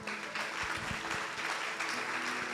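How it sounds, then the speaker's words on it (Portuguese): A church congregation applauds in a sustained, dense wash of clapping that fills the room, steady and fairly loud throughout. "Você pode aplaudir o nome do Senhor?"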